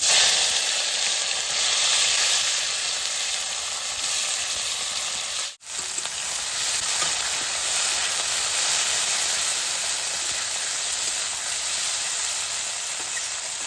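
Onion, green chilli and tomato hit hot oil in a kadai, producing a loud, continuous sizzle and hiss close to the pan, with one brief dip partway through.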